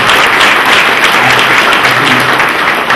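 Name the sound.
applause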